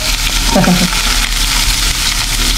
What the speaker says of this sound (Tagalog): Yan, mag-gisa na po tayo. Lagyan natin ng mantika.